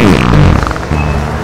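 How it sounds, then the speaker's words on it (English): A loud, drawn-out cartoon fart sound effect in a read-aloud children's story, a blustery low rumble that rolls on steadily for over a second with no talking over it. "Years and years of fart escaped with a tremendous blast, and the sound was deafening"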